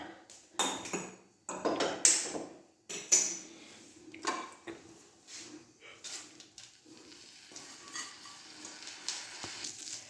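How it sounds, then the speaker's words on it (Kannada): Curry leaves frying in a little oil in a pan for curry leaf fried rice, with clinking metal strikes and scraping against the pan over a faint sizzle, close-up with sparse pauses. "ಇವಾಗ ಫಸ್ಟು ನಾವು ಕರಿಬೇವನ್ನ ಹುರ್ಕೊಂಬಿಡೋಣ"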